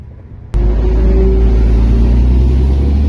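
A bus pulls away nearby, its engine suddenly rising into a loud, steady low rumble with a droning hum that holds for several seconds, with no voices.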